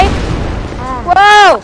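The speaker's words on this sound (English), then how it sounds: "I just shot the rocket launcher and it killed me" In a VR video game, a rocket launcher shot goes off with a short muffled boom, quickly followed by a loud excited voice shouting close up.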